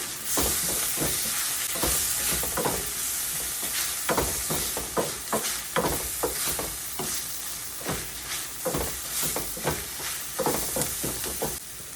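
Curry leaves and green chillies sizzling in hot oil for a prawn curry, a loud steady crackle broken by repeated rhythmic scrapes of a spoon stirring the pan, close up.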